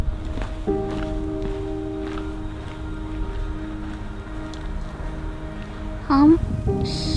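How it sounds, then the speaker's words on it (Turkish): Hikers' footsteps fall at an irregular pace along the Lycian Way trail near Kabak Bay, soft crunches under a steady low hum, with a brief rising tonal squeal near the end. "Sadece nefes ve ayak sesleri eşlik ediyor bize."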